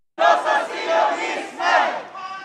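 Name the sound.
crowd chanting at a pro-Palestinian rally in Stockholm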